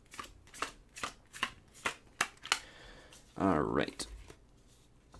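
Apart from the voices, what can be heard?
shuffling a deck of Magic the Gathering cards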